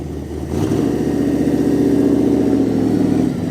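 A classic manual-gearbox car's V8 engine rumbles steadily close by at a Cars and Coffee meet, stepping up to a louder, even growl after a moment and holding it, with no voices.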